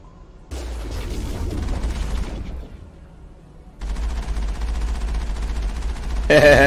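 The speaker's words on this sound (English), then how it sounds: "Who's shooting?" Sustained automatic gunfire in the video game Mass Effect, a loud rapid rattle that drops out briefly midway and then resumes, swelling into a heavier burst at the end.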